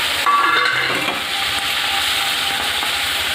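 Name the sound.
prawns frying in oil in a pan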